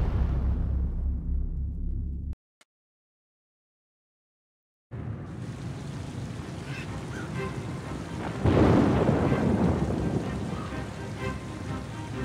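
Stormy night ambience in the intro of the Oceanhorn 2 video game: a rumbling roar fades out, silence follows for a few seconds, then a loud thunderstorm returns with a heavy crash of thunder midway.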